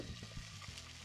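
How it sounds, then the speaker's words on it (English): Bacon frying in a video game, a short, steady sizzle with crackling pops, loud and close, with no voices over it. "What is frying?"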